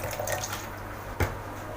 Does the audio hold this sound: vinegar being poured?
yes